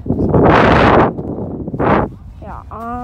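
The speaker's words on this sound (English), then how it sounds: "the wind is so strong today" Strong wind buffets the microphone in loud, rumbling gusts, heaviest in the first second and surging again briefly later, with a voice speaking near the end.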